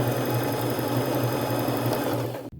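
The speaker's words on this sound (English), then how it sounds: "Now I'm just simply going to take it to my machine and sew that closed, and I'm going to stay close to the edge using a fairly small straight stitch." A sewing machine stitches a fairly small straight seam along the edge of dress fabric, a rapid, even mechanical whir with a regular pulsing rhythm that runs close and loud, then stops abruptly near the end.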